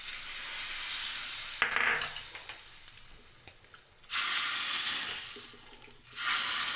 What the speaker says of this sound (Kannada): ಒಗ್ಗರಣೆ ಹಾಕಿದ ತಕ್ಷಣ ಈ ಥರ ಸೌಂಡ್ ಬರಬೇಕು